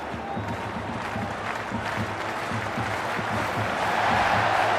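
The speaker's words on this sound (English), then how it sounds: "The crowd is electric right now." A cricket video game crowd roars with sustained cheering and applause that builds steadily louder, a continuous wash of stadium noise with no clear voices.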